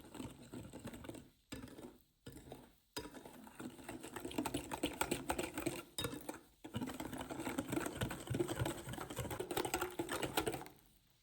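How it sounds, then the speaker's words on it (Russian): A batter of egg, sugar, vegetable oil and milk is stirred in a bowl, giving a steady close-up scraping and tapping of the whisk or spoon against the bowl sides, with a few brief pauses before the mixing carries on continuously. "Еще раз все хорошо перемешиваю."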